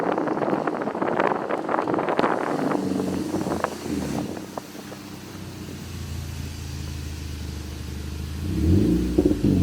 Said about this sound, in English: This car sounds so bad.